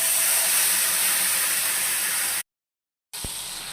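Okra curry with turmeric sizzling in hot oil, a steady loud broadband hiss that cuts out briefly near the end and then resumes.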